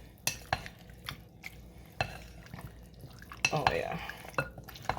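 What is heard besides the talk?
mixing cut chicken in a bowl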